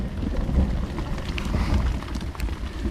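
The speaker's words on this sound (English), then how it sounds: "Now we're in the middle of a severe thunderstorm." Steady heavy rain with low thunder rumbling during a severe thunderstorm in a Texas slot canyon, a dense continuous wash of sound close around the listener.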